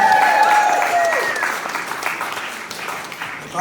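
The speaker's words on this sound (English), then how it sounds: "So I'd like just a little round of applause for Aidan and" Wedding guests applaud during the speeches, a dense, steady round of clapping close by that gradually thins and fades over a few seconds, with faint voices and a ringing tone beneath it at the start.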